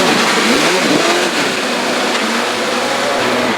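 A Gould GR55 hillclimb race car accelerating hard on a British speed hillclimb course, a loud, close engine scream rising in pitch through the gears and filling the whole short burst.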